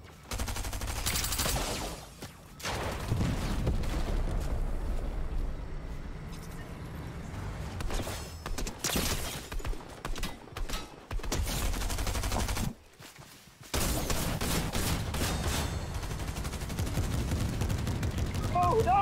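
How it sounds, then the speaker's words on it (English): Rapid bursts of Fortnite gunfire crackle in a dense, near barrage with brief pauses, mixed with game sounds and a player's talk running over it. "Oh shoot, they're shooting me"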